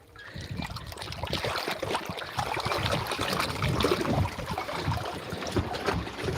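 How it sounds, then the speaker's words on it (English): Water trickles and splashes steadily outdoors at night as a freshly caught fish and a pair of hands are rinsed under it, a close, continuous running flow with no talking. "wash my hands"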